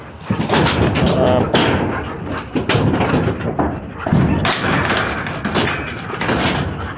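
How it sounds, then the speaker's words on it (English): Dogs slam hard into metal kennel doors, repeated loud bangs and rattles in quick, irregular bursts, close and harsh throughout. "You can hear they hit those doors really hard."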